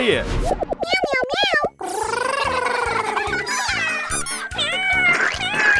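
Cartoon cat meowing in a Thai children's hide-and-seek animation, loud exaggerated rising and falling meows and yowls repeating over springy music and sound effects.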